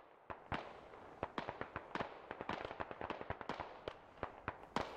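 Gunfire in the military shooter game SquadOps, a rapid irregular run of sharp cracking shots, some single and some in quick clusters, fairly close and without talk.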